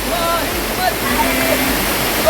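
A hidden waterfall in Karjat roars as a loud, steady wash of rushing water that fills the whole short stretch, with no break.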